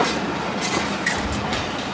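A train at Kasur railway station in Pakistan rolls past close by, a loud continuous rumble with repeated wheel clatter and a brief squeal, and no one speaking.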